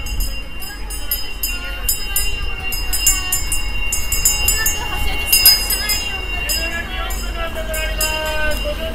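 The Futatsuboshi 4047 sightseeing train of JR Kyushu pulls away from a station near Huis Ten Bosch, a steady rumble of rolling rail noise with faint squeals and clatter, a voice talking over it.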